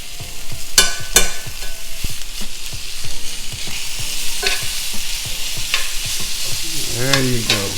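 Bacon jam and smoked sausage sizzling loudly in a pan, a dense close crackle with repeated scraping and clicking stir strokes throughout.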